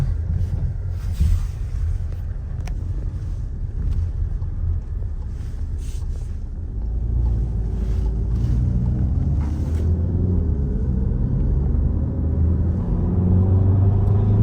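A white Skoda Octavia A7 with a 2.0 TDI turbodiesel driving on a road: steady low engine and tyre rumble with road and wind noise throughout, the drone rising slightly in pitch in the second half as the car gathers speed.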